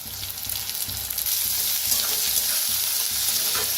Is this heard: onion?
yes